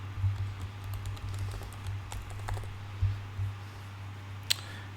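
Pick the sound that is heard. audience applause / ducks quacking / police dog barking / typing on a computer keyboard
typing on a computer keyboard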